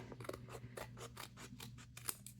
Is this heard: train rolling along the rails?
no